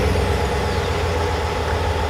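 A 2020 Ram 1500 Night Edition pickup running after a key fob remote start, a loud, steady engine drone heard close up with no talking.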